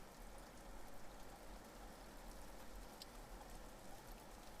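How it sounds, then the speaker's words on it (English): Soft, steady rain falls as a faint, even hiss in the background, continuous and unbroken, with no voices over it. "It was raining that day, just like now."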